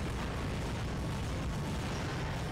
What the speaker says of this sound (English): Let's use our mini rocket cannon here.